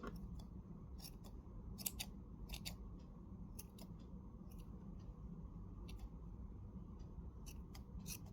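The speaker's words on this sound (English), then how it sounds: "So I'll just cut the extra ones." Scissors snip off loose crochet yarn tails on a tassel, a series of crisp, close cuts in irregular bursts over a quiet background.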